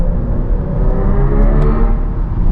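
A 2025 MINI Countryman SE ALL4 electric SUV sets off driving, giving a loud, steady low rumble of road and cabin noise with faint whirring tones and a few soft clicks partway through.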